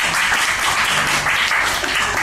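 Scattered hand clapping rises into continuous applause from a small audience at a live acoustic guitar show in Naha, Okinawa. It stays close and busy throughout, with faint voices underneath.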